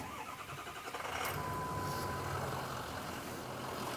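A 2006 Forest River Sunseeker 2900 diesel motorhome engine cranks and catches, then settles into a steady, rumbling idle close by with no talking.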